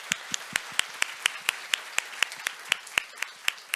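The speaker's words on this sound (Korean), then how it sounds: "여기서 꼭 박수 한번 할까요?" Scattered, evenly spaced hand claps at a Korean science lecture with students present, sounding like a small audience clapping sharply in a steady rhythm in a quiet hall.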